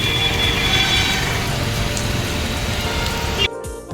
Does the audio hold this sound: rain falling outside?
yes